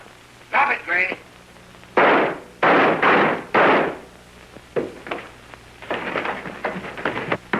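Several sharp, loud gunshots ring out at close range in an old 1930 murder-mystery scene, followed by a scatter of quieter bangs and shouting voices mixed in.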